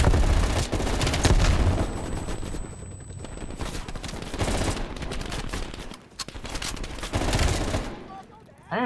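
Sustained full-auto gunfire in a Call of Duty: Black Ops Cold War campaign firefight in Vietnam, with dense, continuous shooting and booming impacts running loud for several seconds before easing off near the end.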